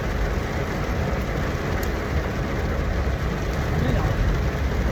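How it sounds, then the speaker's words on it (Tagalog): Heavy rain pours down in a steady, dense roar, loud and close, with no break. "Grabe yung ulan."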